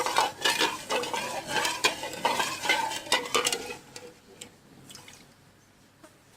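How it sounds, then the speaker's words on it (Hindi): A spoon scrapes and clinks against a pot while stirring sugar syrup for almond sharbat, a steady run of close scraping taps that thins out and turns sparse toward the end. "आपने इसमें चम्मच को चलाते रहना है ताकि ये नीचे ना लगे, नहीं तो चीनी नीचे लग जाएगी।"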